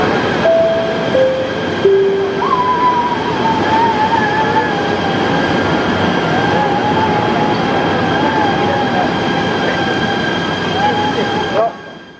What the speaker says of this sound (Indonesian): Kita di kereta api bawah tanah.